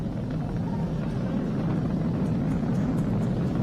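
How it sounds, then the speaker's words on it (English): SpaceX Falcon 9 rocket engines roaring during ascent, a dense, unbroken low rumble that holds steady and fairly loud throughout. "Vehicle is supersonic. We've exceeded Mach 1 on the Falcon 9."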